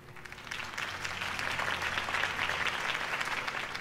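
Steady crowd applause in the video game Telltale's Batman, Episode 1: many hands clapping continuously with some cheering texture, fairly loud and sustained throughout.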